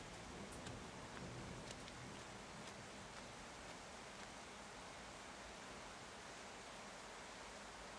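Steady rain hisses softly and evenly throughout, a faint wash of falling drops with a few scattered patters and no voices.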